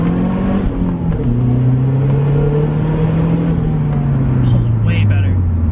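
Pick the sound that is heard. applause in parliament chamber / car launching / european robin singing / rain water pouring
car launching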